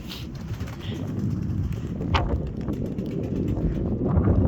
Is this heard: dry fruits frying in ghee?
no